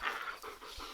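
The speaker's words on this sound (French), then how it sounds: "Il y a toujours le chien qui est là." A dog pants close by in quick, breathy rhythmic puffs, soft and steady for about a second with no talking over it.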